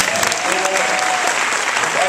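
A crowd at a graduation ceremony applauds the kids, with dense, steady clapping that stays loud and even from start to finish and no voices rising above it.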